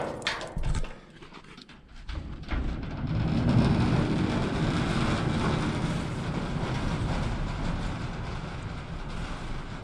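A sliding garage gate rolls open in one long, steady rumbling slide lasting several seconds, loud and close, after a few clunks at the start.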